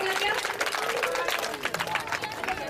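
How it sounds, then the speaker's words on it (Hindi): A crowd of people clapping steadily at a performance event, a dense sustained patter of many hands, moderately loud, with a presenter's voice talking over the applause. "जोरदार तालियां। जोरदार तालियां।"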